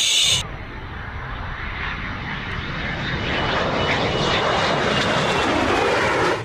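A jet-aircraft engine roar, presented as an F-18, swells steadily and grows louder and brighter over several seconds, a sustained close whoosh with no talking over it.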